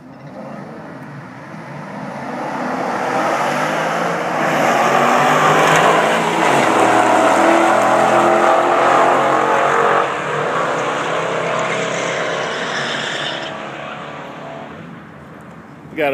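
Drag race cars, one of them supercharged, roar down the strip at Englishtown Raceway Park during the Mopar Nationals, a loud sustained engine blast with a shifting pitch that fades out near the end, while commentary talks over it.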